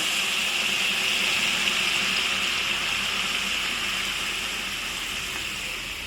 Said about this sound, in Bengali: এই জল দিয়ে দিলাম